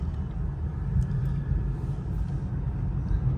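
Inside a 2021 Lexus LC500 cruising at a steady pace, a low, even rumble of engine and road noise fills the cabin with no other sounds on top.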